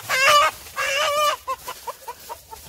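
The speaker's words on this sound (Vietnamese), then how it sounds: "Gà ở trong đây nè các bạn." Free-range garden chickens clucking close by on a farm, a few loud drawn-out calls followed by a run of short, evenly spaced clucks fading in and out.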